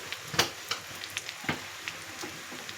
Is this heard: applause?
no